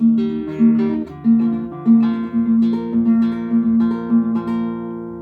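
An acoustic guitar plays a fingerpicked chord pattern, with plucked notes rolling over sustained low tones, close and clear, with no voice.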